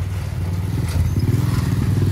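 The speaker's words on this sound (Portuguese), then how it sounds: "Olha essa moto aqui, ó." A motorcycle passes on a busy Bangkok street, its engine putting out a steady, close low rumble with a rapid pulsing rhythm that swells slightly as it goes by, with faint street clatter behind it.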